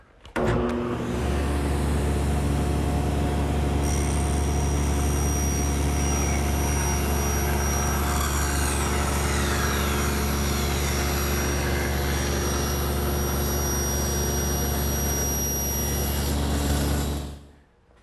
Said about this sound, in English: I'm going to move the rip fence over, so it's about 3/8 of an inch away from the blade